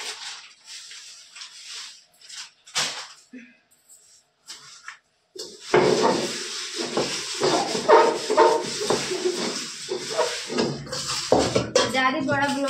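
Dishes, pots and utensils being washed by hand at home, with running water hissing and metal vessels clattering and scraping close by in irregular bursts.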